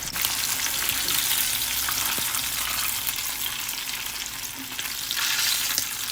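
Shrimp fry in hot oil for crispy shrimp tacos, a loud, steady, close-up bubbling sizzle that holds throughout with no talking.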